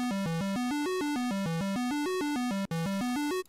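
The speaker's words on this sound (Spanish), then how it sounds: "Suena así como a típica maquinita de arcade" Retro arcade-style chiptune melody from the Sprunki game, a bright buzzy square-wave tune stepping through quick, evenly spaced notes in a bouncing pattern, loud and alone with two tiny gaps near the end.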